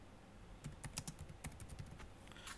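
Typing on a computer keyboard on Windows 11: a quiet, close run of irregular key clicks, clustered in short bursts with brief gaps, alone with no speech.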